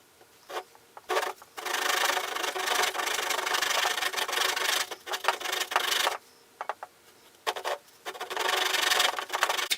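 Repeated rasping strokes cut out a section of a Hi-Point 995 stock, coming in rhythmic bursts separated by brief pauses, close and moderately loud.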